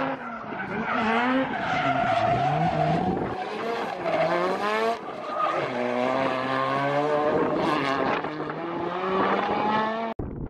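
Race cars roar past with skidding, squealing tires and revving engines, loud and continuous, overlapping one another on the course.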